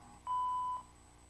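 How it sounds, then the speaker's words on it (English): A single steady electronic beep from an answering machine, about half a second long, sounding clearly after the outgoing greeting over a faint hum. "please leave a message after the tone and we'll get back to you as soon as we can"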